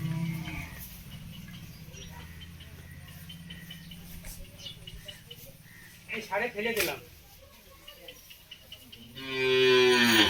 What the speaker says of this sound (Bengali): বাইরে গরু বাঁধা আছে